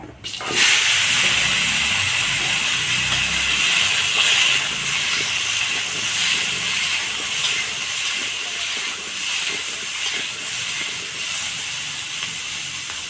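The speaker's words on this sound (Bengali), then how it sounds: "সবজির মধ্যে আছে মূলো, কুমড়ো, আলু আর চিড়ে রাখা কাঁচা লঙ্কা একসঙ্গে দিয়ে দেবো" Chopped radish, pumpkin, potato and slit green chillies hit a hot pan, setting off an abrupt, loud sizzling hiss that settles into a steady, slightly fading steam for the rest of the stretch.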